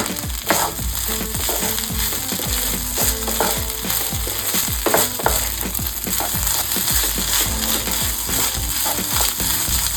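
Rice fries and crackles in a pan over high heat for ilish polao cooked with coconut oil, a dense, steady sizzle with a busy, constant texture and no voices.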